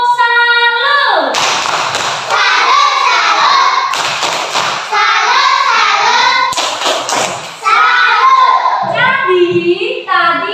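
A class of primary school children performs a patterned salute clap, several rhythmic bursts of claps and thuds separated by short gaps, with an adult voice speaking between them.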